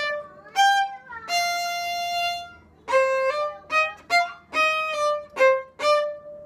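A short drill passage from the Gavotte from Mignon, measures 35 to 37, played as a string of clear, moderately quiet melodic notes with some held tones and quick detached steps, heard alone without talk.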